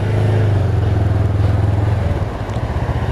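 Honda Rebel motorcycle engine while riding, a loud steady low throb with a rhythmic pulsing exhaust note held close up over several seconds, easing slightly near the end, with no talk.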